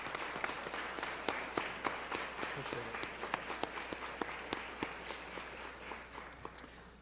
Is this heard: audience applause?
yes